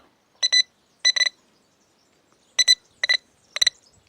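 A Mangoost metal detector beeps in short paired and triple electronic bursts, separated by silent gaps, clear and close, reacting to a phone.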